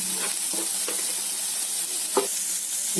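Coconut paste gets stirred into taro stems cooking in a pan, a steady close hiss of sizzling broken by several soft scraping strokes of the spoon.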